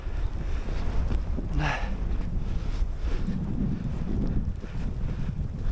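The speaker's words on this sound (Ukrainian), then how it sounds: "Дуже некомфортна погода дуже сильний вітер" Strong wind buffets the microphone in a constant heavy roar, steady and loud throughout with no voices, on a freezing day at a lake while pike fishing with tip-ups.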